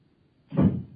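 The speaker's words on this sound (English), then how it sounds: "The front door." A front door swings open or shut with a single muffled thud-like sound partway through, standing alone against a quiet background.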